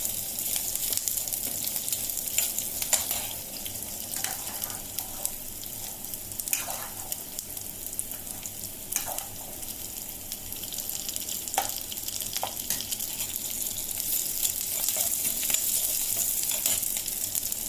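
Seven small onions (shallots) sizzle steadily in a pan for black chickpea curry, a continuous close frying hiss with occasional faint stirring scrapes and no talking.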